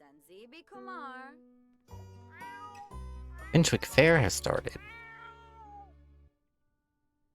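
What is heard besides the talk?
pet cat meowing for food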